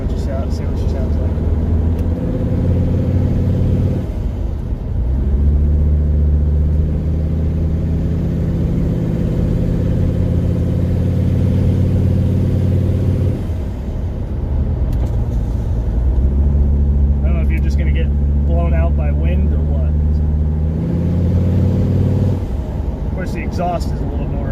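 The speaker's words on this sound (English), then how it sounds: "The exhaust is a little more noisy with it open." A Mercedes-Benz 300TD with an OM617 turbo diesel drones steadily from inside the car while driving with the windows down, its engine and exhaust rising and falling with shifts, under occasional talk.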